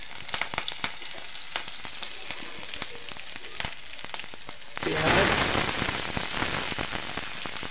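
Garlic, cumin and green chillies sizzling as they hit hot oil for a tadka over cooked arhar (pigeon pea) dal, a steady crackling fry that swells louder midway and keeps hissing.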